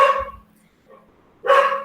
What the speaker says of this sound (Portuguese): Meus cachorros estão agitados.